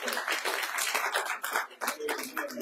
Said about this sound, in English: Give God a hand clap for